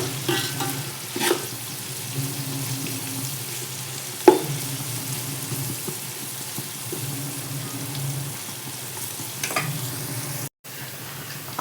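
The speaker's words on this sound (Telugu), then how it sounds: "ఆనియన్స్ బాగా ఫ్రై అయిపోయినాయి." Onions fry in oil with salt in a pan for a mixed biryani, giving a continuous soft sizzle broken by occasional clinks and scrapes of stirring.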